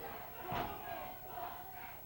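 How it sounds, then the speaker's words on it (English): Wrestling arena crowd at an NWA Wildside show jeering a heel named Rainman, a steady roar of booing voices with swells of louder shouting, heard at a distance throughout. "Crowd really on Rainman here."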